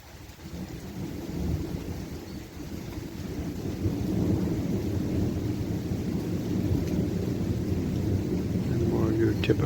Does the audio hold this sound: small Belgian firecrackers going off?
no